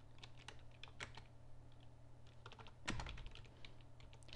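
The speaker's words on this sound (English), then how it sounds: "I am typing it exactly as it's on her menu right now" Someone types menu item details on a computer keyboard, producing quiet, irregular clicking keystrokes in short bursts, with one louder clack near the end, in a quiet room.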